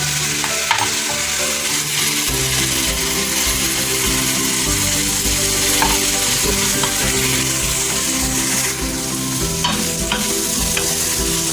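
Beef sizzles and fries with nihari masala in a pot, a loud steady crackle with repeated scraping stirs throughout, no talking.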